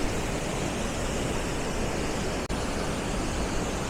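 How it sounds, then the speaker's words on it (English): Waterfall at Silver Falls State Park, a dense, constant roar of falling water heard close to the spray, broken only by one brief dropout, no voices. "and then there's the waterfall."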